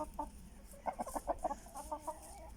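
A hen stays close beside a rooster, giving a short run of soft, fairly faint clucks in quick uneven bursts with brief pauses between them.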